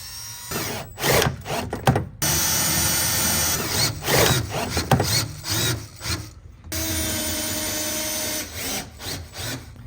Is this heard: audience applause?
no